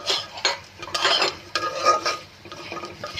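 Black peppercorns tipped into a pan of whole spices and stirred, with irregular close scraping, rattling and clinking bursts against the metal pan.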